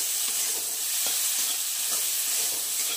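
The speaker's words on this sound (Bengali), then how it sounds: "এইটাকে এখন ভালো করে নেড়ে চেড়ে নিলাম। আলুটাও কিন্তু বেশ ভাজা ভাজাই হয়ে এসছে" Potatoes fry in a pan while being stirred, making a continuous loud hiss with soft scraping and clicking from the stirring, close up and without speech.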